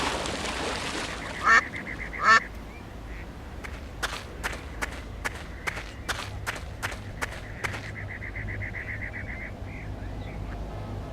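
Ducks in the PC game Secret Files 2: Puritas Cordis quack in response to a noisemaker: two loud honking calls early on, then a run of quick, evenly spaced clicks or steps.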